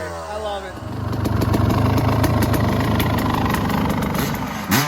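A Kawasaki KX 250 dirt bike engine fires up and settles into a steady, loud, close idle with a slightly uneven burbling pulse, alone after a brief lead-in.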